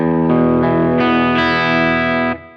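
Distorted electric guitar power chords built only from root notes and fifths in a classic hard rock style, several chords struck in quick succession and ringing loud and sustained before the last one is choked off, with no talking.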